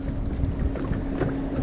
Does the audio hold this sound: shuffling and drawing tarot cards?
no